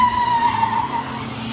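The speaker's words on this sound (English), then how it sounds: "When that van launched" A turbocharged ambulance van launching hard in a Thai drag race, a loud close tire squeal with a steady high whine over engine roar.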